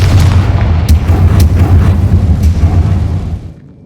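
A Confringo blasting spell from the Hogwarts Legacy video game goes off as a loud, sustained rumbling explosion with several sharp bursts inside it, fading away in the final half second.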